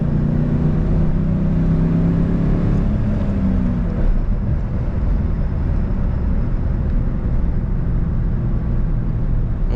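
A 2003 Ford SVT Cobra driving on a road, its engine a low rumble that shifts pitch early on before settling into a steady drone mixed with wind and road noise, heard from inside the car.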